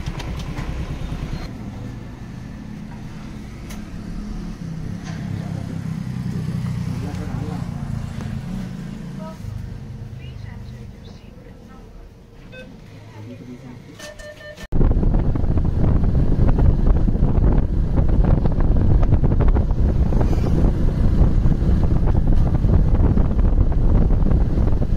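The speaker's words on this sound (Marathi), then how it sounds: "मी सध्या गाडी ड्राईव्ह करतो आहे" Car driven along a road, with a steady engine and road rumble under wind buffeting. The noise grows noticeably louder and rougher partway through, and people talk over parts of it.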